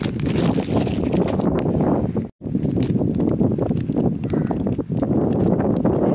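Strong wind roars and buffets the microphone continuously, with a brief drop to near silence midway before the gusting resumes just as loud.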